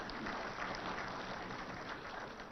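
Sustained applause from an audience at a business report launch event in Hyderabad, a dense steady wash of many hands clapping throughout at moderate level.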